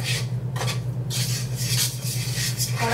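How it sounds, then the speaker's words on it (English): A utensil scrapes and stirs sugar with mashed banana in a bowl for brownies, a close, rhythmic rubbing and clinking over a steady low hum. "this amount of sugar, one mashed banana, kind of gonna stir that together"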